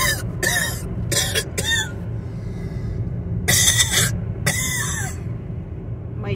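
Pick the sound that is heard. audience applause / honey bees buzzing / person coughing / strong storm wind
person coughing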